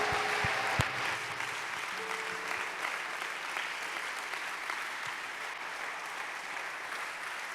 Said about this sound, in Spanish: Levanten un fuerte aplauso a Jesucristo.